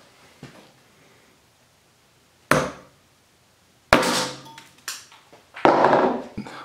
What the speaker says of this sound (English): a real hammer